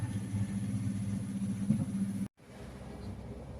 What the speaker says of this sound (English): so hopefully the tractor outside's not too loud